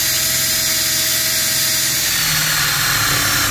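Power drill boring a 1 1/8 inch hole in a pallet-wood test board, a loud continuous whirring grind held steady for several seconds, with the pitch dropping slightly as the bit bites deeper.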